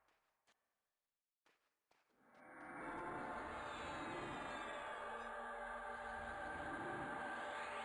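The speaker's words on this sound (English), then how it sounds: "That sounds like a train." A train rolls in after a few quiet clicks and taps, building into a sustained, even rumble with a high metallic whine over it, continuing steadily and fairly faint in the background.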